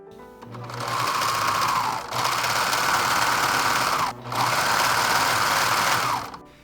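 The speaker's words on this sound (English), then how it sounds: "I took it to the serger and serged around the entire armhole" An overlock serger runs in three long bursts, stitching around the frayed armhole of an Edwardian-style Mennonite dress. The buzzing whir is close and loud, with brief pauses between passes.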